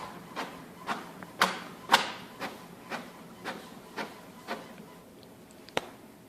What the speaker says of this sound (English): As you can see, it's now printing.